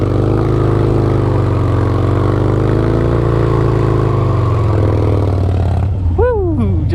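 Harley motorcycle engine idling and rumbling steadily during drift practice, loud and close, with a few quick revs near the end.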